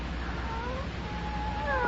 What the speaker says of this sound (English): It's a black cat.